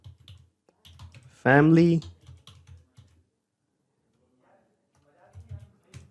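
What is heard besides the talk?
typing a message on a computer keyboard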